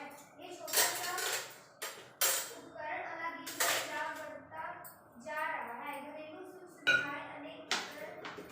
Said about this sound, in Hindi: तो चलिए मैं ये बर्तन वगैरह भी लगा लेती हूँ।